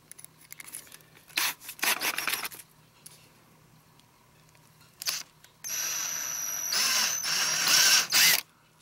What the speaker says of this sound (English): So I'm going to drill out.